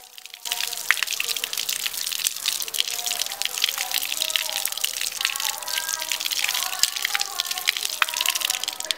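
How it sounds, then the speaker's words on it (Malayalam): Oranges are rinsed under running tap water, a steady splashing gush with drips and patters as the fruit is turned by hand, close and continuous throughout. "ഇപ്പോൾ ഓറഞ്ച് ആദ്യം കഴുകിയെടുക്കണം"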